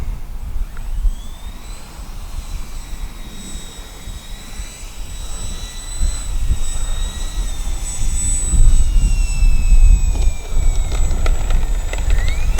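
An electric Flightline OV-10 RC model airplane comes in to land on grass, its steady high motor whine holding over a broad rushing drone that swells louder toward the end.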